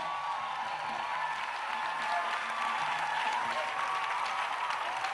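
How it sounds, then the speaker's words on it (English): A church congregation applauds in a long, steady wash of clapping, fairly distant and even throughout, with faint voices mixed in beneath. "Acclamation. Clap offering."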